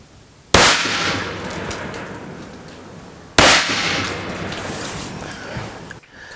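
Two sharp, loud rifle shots fire about three seconds apart, 75-grain Creedmoor tipped match bullets punching through a wall for a home-defense test, each crack decaying into a long ringing tail with no talk.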